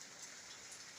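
Steady rain falls on a wet floor and roof under construction, a soft continuous patter and hiss with no voices, faint and even throughout.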